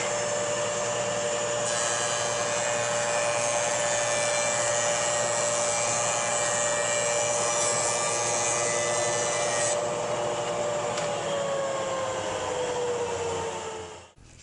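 A power jointer planes the edge of a pallet wood slat, with a loud steady motor whine and a cutting roar throughout, winding down at the end, close, and with no speech.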